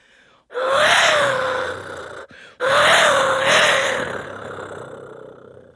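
Two long, rasping roar-like blasts from an ancient wind instrument imitating a jaguar's roar, each swelling then fading, separated by a short pause and a brief low grunt.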